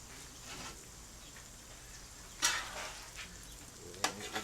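Cheeseburger patties fry on a hot surface with a soft, steady sizzle that stays faint and even, broken by a couple of sharper scraping clatters near the end.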